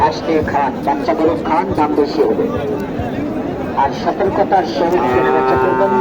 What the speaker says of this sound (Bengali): অনেক গরু আছে